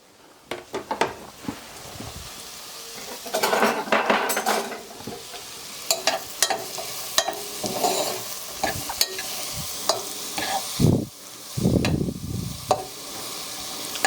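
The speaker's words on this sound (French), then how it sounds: "on vient l'ajouter à l'ail dans la casserole pour les faire revenir tranquillement à feu doux" Onions sizzle and fry gently over low heat in a saucepan with garlic while a utensil stirs and scrapes them now and then, with soft clinks between strokes.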